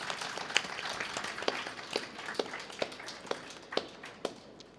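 An audience claps to thank a musician at a concert. The clapping is thin and scattered, with sharp individual claps standing out at a fairly low level and thinning toward the end.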